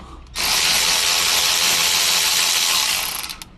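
Power tool spinning off a front brake caliper bolt on a Toyota Highlander, one sustained loud whirring burst of about three seconds that cuts off abruptly, with no talking.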